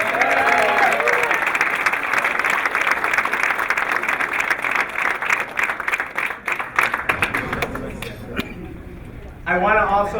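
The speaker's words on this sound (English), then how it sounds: "Give them a big round of applause" A large audience at a civic event breaks into loud, dense applause that thins out into scattered claps, and then a voice begins speaking.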